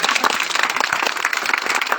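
Audience applause at a gathering honoring a teacher and social activist, a dense, steady wash of many hands clapping, loud and continuous throughout with no talk.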